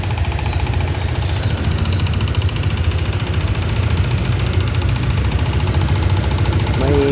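A motorcycle engine with a newly replaced clutch cable idles steadily and loudly up close, with a rough, rattling knock running through the constant low rumble.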